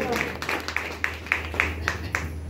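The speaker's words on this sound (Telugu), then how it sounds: "గట్టిగా చప్పట్లు కొడతాం" A church congregation claps loudly together in a steady, even rhythm of about eight beats, close and strong over a low hum.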